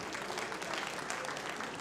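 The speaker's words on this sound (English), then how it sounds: "Another round of applause." Faint, distant applause at the Digie Awards ceremony, a low wash of crowd clapping lasting under two seconds.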